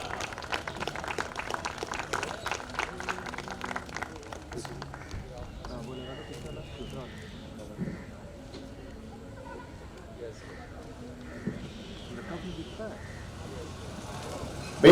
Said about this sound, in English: Ladies and gentlemen, huge round of applause for Major Ashish Kumar.